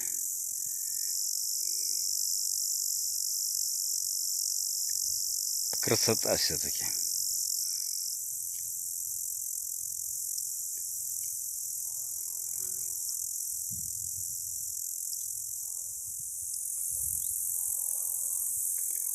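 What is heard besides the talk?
grasshoppers chirping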